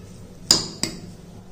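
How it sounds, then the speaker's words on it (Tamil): A spoon knocks against a bowl twice while dosa batter ingredients and salt are mixed together by hand; two sharp, close clinks stand out over a quiet kitchen background. "இதை வந்து எல்லாத்தையும் நல்லா மிக்ஸ் பண்ணிக்கிடுவோம்."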